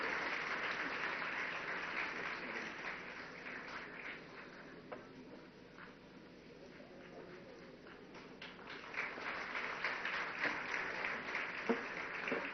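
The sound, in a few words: audience applause for a guest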